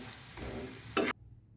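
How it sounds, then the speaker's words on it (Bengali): Spinach paratha frying in oil, a soft crackle that swells into a loud, short sizzling burst for a moment and then cuts off abruptly. "পরোটা যেমন ভাজে ওই রকম তেল দিয়ে এটা ভাজতে হবে।"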